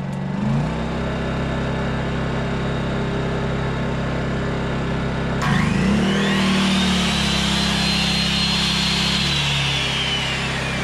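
A Honda EU2200i inverter generator runs steadily at idle, then its throttle is turned up and the engine note rises sharply into a louder, higher, sustained drone that holds for several seconds before easing slightly.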